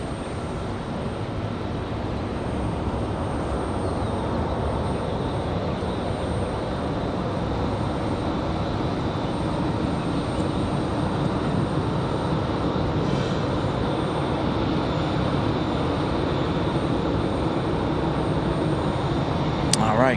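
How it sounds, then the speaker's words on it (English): An American Airlines Boeing 737 MAX 8 arriving at Raleigh-Durham airport gives off a steady, broad jet roar that holds at an even level throughout. "next arrival, American 2105 coming in from Miami, 737 MAX 8"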